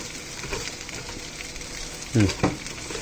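Minced pork stir-fried with holy basil sizzles steadily in a hot pan, with a couple of louder tossing bursts near the end as the leaves go in.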